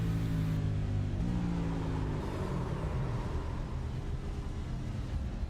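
An iRacing race car engine drones loudly, its pitch stepping down then climbing as the revs jump after a downshift from fifth to fourth gear, with no talking.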